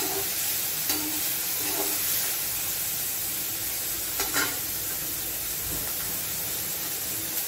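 Vegetables sauté in a pan for a sandwich filling, giving a steady close sizzle and hiss broken by several quick spatula scrapes and taps.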